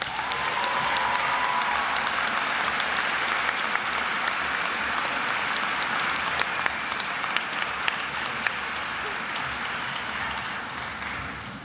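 Sustained audience applause at the Fordham College Rose Hill Encaenia awards ceremony honoring award recipients, a steady dense clapping from a large crowd lasting the whole stretch with no talking.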